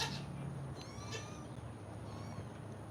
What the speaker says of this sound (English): There is a tiny kitten here.